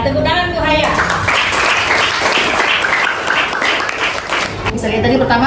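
Classroom applause for a pupil during a lesson on the planets: a dense, steady wash of many hands clapping together for several seconds, with a teacher's voice speaking over it at the start and end.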